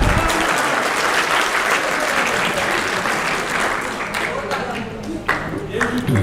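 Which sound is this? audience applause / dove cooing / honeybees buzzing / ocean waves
audience applause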